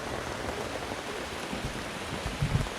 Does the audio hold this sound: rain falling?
yes